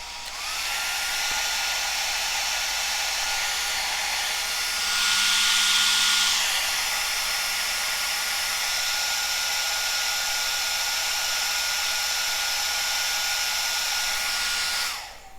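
A repaired Cascade DS-925 hair dryer runs with a steady, loud blowing whine and airy hiss for about fifteen seconds, briefly rising in intensity midway, with no talking.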